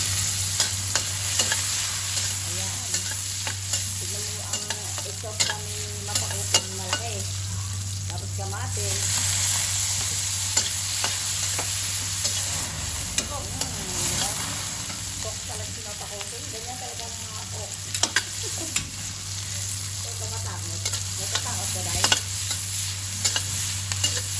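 Onions sautéing in a pan for tuna sinigang with kamias, a steady close sizzle and frying hiss running throughout with occasional stirring scrapes.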